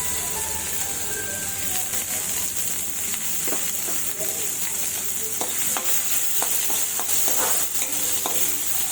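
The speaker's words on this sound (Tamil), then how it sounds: "கண்ணாடி பதம் வர வரைக்கும் வறுத்துக்கிட்டா போதும்." Small chopped onions frying in oil for paniyaram, a steady close sizzle with intermittent stirring scrapes throughout.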